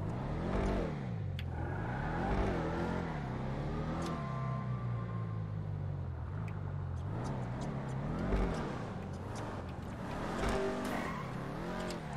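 A powerful engine of a Dodge Charger Hellcat in the video game GTA 5 revs up and down repeatedly, rising and falling in pitch, steady and loud with a low rumbling tone.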